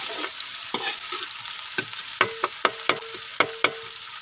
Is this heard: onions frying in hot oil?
yes